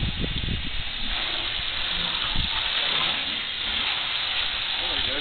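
Hose water sprays steadily while a truck is rinsed during an outdoor wash, a continuous broadband hiss running the whole time at close range with little change in level.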